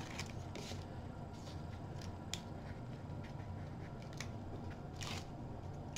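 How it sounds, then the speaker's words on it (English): Tape peeled slowly off paper on a handmade recipe mini album, a quiet dry crackling rip with a few brief sharper snaps over a low steady background hiss. "Let's peel this tape off here"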